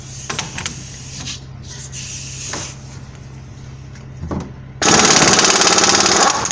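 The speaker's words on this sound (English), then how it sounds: "We're going to see if we can just use the gun to get this off of here" An impact gun working on a 2000 Dodge Durango front wheel hub, a loud, rapid hammering burst near the end after quieter rubbing and clanking.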